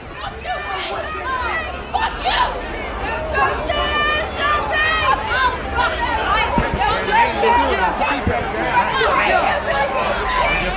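Angry crowd of street protesters amid looting and pepper spray, a dense continuous roar of overlapping shouting voices and chatter, loud and close throughout.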